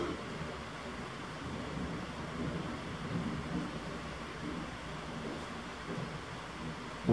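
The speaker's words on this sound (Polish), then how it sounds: "a tymczasem nadal jest burza" Steady rain and low, rolling thunder rumble through a strong evening thunderstorm over Łowicz, Poland, a dense continuous wash of noise with no distinct close crack.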